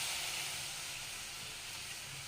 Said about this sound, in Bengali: যখন লাল লাল করে ভাজা হয়ে গেছে তখন একটু জল দিয়ে দেবো